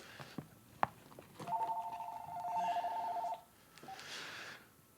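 A telephone at a lock and key business rings with one long electronic trill, preceded by a few clicks and knocks and followed by faint rustling, heard fairly near in a quiet room.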